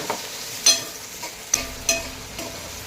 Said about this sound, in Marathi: वाट्यावर कांदा ना चांगला लाल होईपर्यंत परतावू देवाला